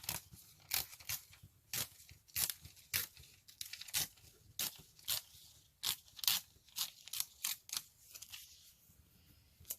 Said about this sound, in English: I'm going to tear it against the bookmark.